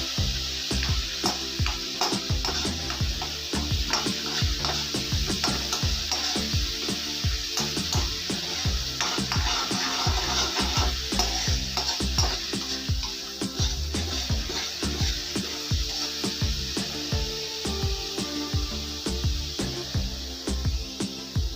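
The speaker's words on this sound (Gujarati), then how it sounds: "થોડી વાર ડુંગળીને ચડવા દઈશું." Onions and cloves fry in a pan for a stuffed bitter gourd curry, a loud, steady sizzle running continuously with frequent stirring scrapes and clicks throughout, no voices.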